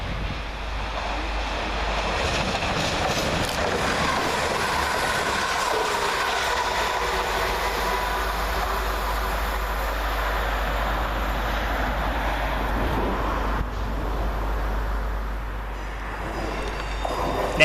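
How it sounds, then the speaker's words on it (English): Class 172 diesel train 172343 running fast through Barnt Green railway station on a Birmingham New Street to Hereford service, a sustained loud rumbling roar of wheels and carriages passing close, steady throughout and fading slightly near the end. "First fast train through Barnt Green sees 172343, working 1 Victor 28 from Birmingham New Street to Hereford."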